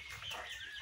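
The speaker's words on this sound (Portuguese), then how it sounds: "Os pintinhos." Chicks peeping and chickens clucking nearby, a busy cluster of short bird calls with light farmyard background noise.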